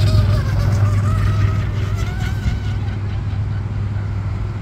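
An RC powerboat fitted with a higher-torque prop makes a speed sprint, its small motor whining loudly with a steady buzzing hum that fades slightly as the boat pulls away.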